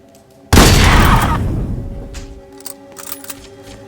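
A sudden loud burst of video game gunfire erupts, then trails off into scattered shots and rumbling over a few seconds.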